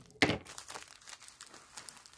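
A small plastic bag from an AliExpress package crinkles sharply as it is cut open, with one loud rustle followed by softer scattered crackles of the plastic.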